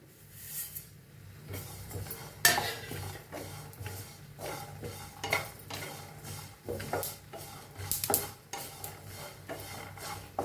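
Peanuts, grated coconut and sesame seeds dry-roasting in a pan, heard as steady close scraping and rasping of a spatula against the metal with light clinks, no talk.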